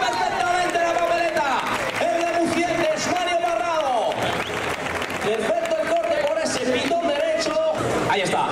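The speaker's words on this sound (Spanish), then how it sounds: "el aplauso y la ovación para el toro bravo, para el rey de la fiesta" A bullfight crowd in Simancas applauds the brave bull, a sustained ovation of clapping and crowd noise under a loud announcer's voice and tonal music.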